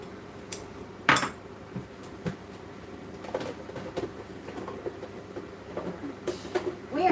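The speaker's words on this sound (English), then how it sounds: "So give that another whisk in." A mixture whisked in a bowl, heard as quiet, irregular metallic clinks and light scrapes, one sharper tap near the start, with no talking.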